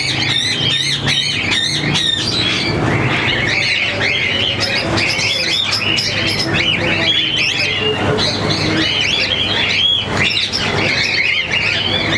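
Birds in an aviary at a bird farm in Lahore, Pakistan, including pied birds, squawk and chirp densely and loudly throughout, with harsh calls overlapping close by.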